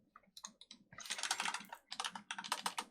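Fast, close keystrokes on a computer keyboard, bursts of rapid clicking with short pauses between them, heard alone.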